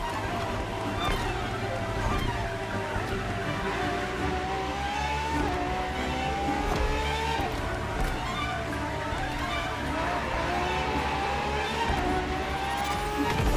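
A Ferrari FXX K supercar races in The Crew Motorfest, its engine revving and shifting through repeated rising sweeps, with tire squeal and skidding, over a loud continuous roar.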